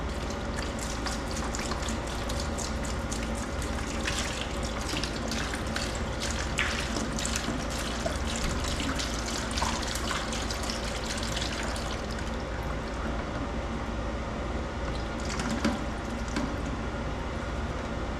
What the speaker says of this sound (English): So let's go ahead and pour that in there.